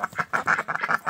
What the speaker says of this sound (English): These are duckies.